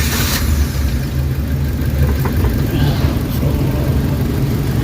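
Suzuki Carry with a low-power, knocking fuel-injected engine, a loud, close low rumble running steadily throughout, briefly under a short spoken word at the start.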